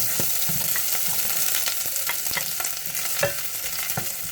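Onion sautéing in a pan, a continuous close sizzle broken by sharp utensil taps and scrapes as it is stirred, with no voices.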